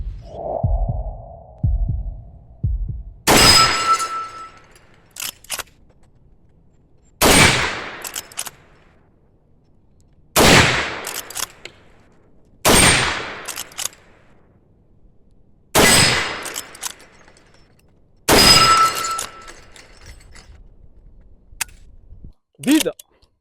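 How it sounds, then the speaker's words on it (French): .44 Magnum revolver and 12-gauge fired with FMJ ammunition while plinking targets outdoors. Seven loud, sharp shots ring out several seconds apart, close by, after a brief opening noise, with faint clinks between them. "Je tire avec de la munition FMJ."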